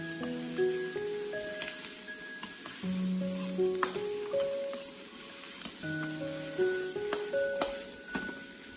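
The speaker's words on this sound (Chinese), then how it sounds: "然后再快速的翻炒，把瘦肉炒熟。" Lean pork and red choy sum stir-fried over high heat in a wok, steady sizzling with scraping stirs and occasional spatula clinks, while melodic background music plays throughout.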